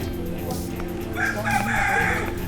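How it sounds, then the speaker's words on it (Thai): Chickens cluck at a forest temple while a rooster crows partway through, under a steady background hum. "ไก่เยอะมากเลยที่เนี่ย"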